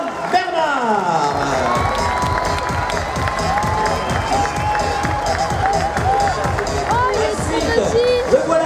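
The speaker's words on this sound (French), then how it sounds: "On peut les applaudir bien entendu très fort." A crowd cheers and applauds young riders at a motorcycle trial event, with steady clapping, whoops and high shouts of children under an announcer's voice over a loudspeaker.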